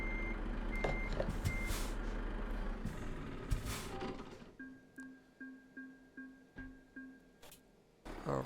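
Regular reversing beeps from a truck in Euro Truck Simulator 2 repeat about eight times in steady rhythm, following a stretch of engine rumble and mechanical clatter.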